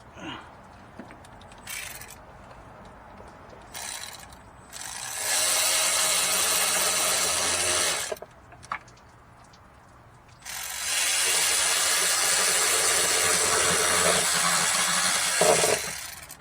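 Ratchet wrench snugging down thin thermostat housing bolts on a Ford F250 with the 6.2 litre engine, in two long bursts of steady close clicking separated by short pauses, with no talk.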